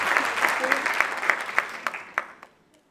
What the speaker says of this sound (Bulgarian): Аплодисменти за Анна!